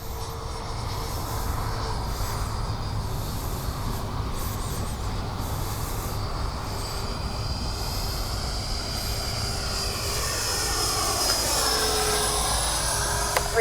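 A Freewing 70mm ME 262 electric ducted-fan RC jet whooshes overhead in a continuous, moderately loud roar that swells slightly toward the end.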